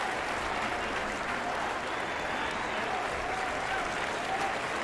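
Dense, steady crowd cheering in the cycling video game Pro Cycling Manager 2023, a continuous roar of applause at even loudness throughout.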